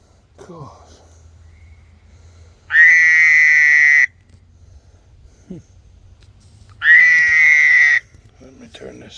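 Loud frog croaks at night: two long, harsh buzzing calls of about a second and a half each, separated by a quiet stretch with faint background noise and a few soft scattered sounds.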